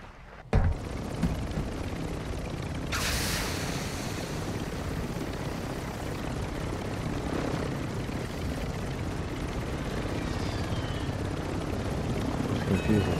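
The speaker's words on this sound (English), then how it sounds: "There's like 5 helicopters." Several helicopters in a multiplayer battle royale video game, a steady broadband rotor and engine drone running throughout at moderate level, with a sharp burst near the start and a brief hiss at about three seconds.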